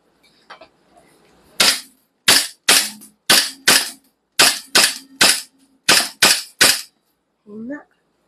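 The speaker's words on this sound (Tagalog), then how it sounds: "Lucas, firing." A gun fires about a dozen sharp, loud, close shots in quick, slightly uneven succession, and a voice speaks briefly once the firing ends.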